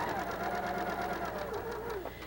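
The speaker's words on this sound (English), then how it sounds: "pick up my pieces and start sewing 1/4 of an inch" Sewing machine stitching quilt pieces together at a quarter-inch seam, a steady close whirring hum with a fast rhythmic needle beat that runs the whole time and slows slightly at the end.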